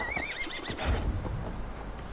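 A horse in the video game Assassin's Creed Valhalla lets out a clear, close whinny with a wavering high neigh, followed by a few soft hoof clops and low game ambience.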